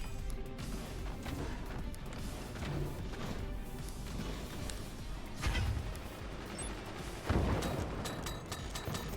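Cannons in the Forts strategy game fire repeatedly, with heavy booms and crashing impacts scattered over a busy battle din, the loudest blasts landing near the end.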